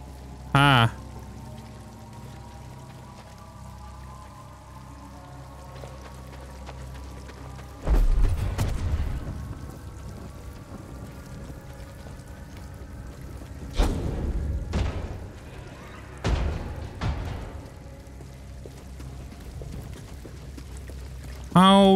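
Water pours and flows steadily inside the Tomb of Miktrull in Star Wars Jedi: Fallen Order, a continuous rushing wash broken by a few heavy thuds and booming impacts.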